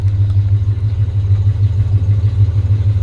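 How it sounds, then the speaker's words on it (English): A 1970 Plymouth Duster's engine idles with a deep, throbbing exhaust note, a steady low rumble pulsing rhythmically and close by, with a faint mechanical clatter and no talking. "Listen to that exhaust in the back."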